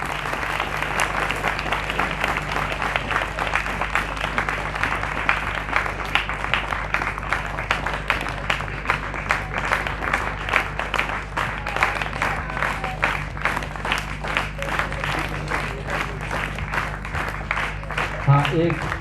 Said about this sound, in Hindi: तो हम ताली बजाते रहेंगे।